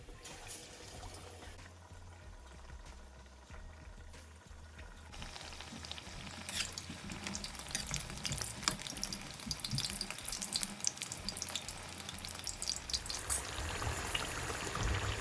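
Batter-coated potato pakoras hiss and crackle steadily in hot oil, the frying swelling louder and denser as more pieces slide in, with no voices over it.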